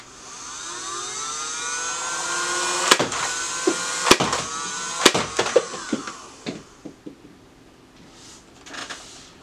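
A Nerf Rival blaster, just repaired, whirs with a sustained flywheel spin-up while several sharp firing cracks land close together, then the whine winds down into quieter mechanical clicks.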